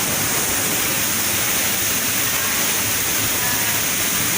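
Pangyan waterfall in Davao Oriental, a dense, constant roar of falling water that fills the whole stretch evenly and loudly, with no break or change.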